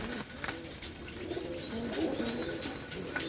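Pigeons, including red cheena and other colored birds, coo in a loft, with overlapping low throaty calls rolling steadily throughout and a busy ambient background.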